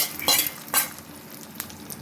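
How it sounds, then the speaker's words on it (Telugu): Hot tempering (popu) sizzles sharply as it is poured into a pot of homemade mango dal. Two loud bursts of frying hiss come close together, then fade to a softer crackle. "పప్పులో పోపు వేస్తాను."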